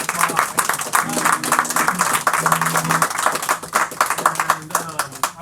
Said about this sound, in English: A round of applause about that.